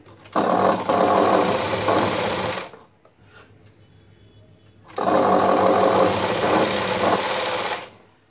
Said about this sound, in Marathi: बारीक नाडी येण्यासाठी एकदम कडेला शिलाई मारायची.